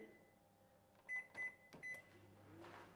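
Microwave oven melting Flora-Light margarine on power 7: a faint hum under three rapid beeps from its keypad, a click, then the low running drone rising.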